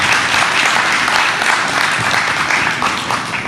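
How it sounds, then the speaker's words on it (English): A wedding crowd claps in sustained, loud applause that continues evenly throughout. "Quick round of applause"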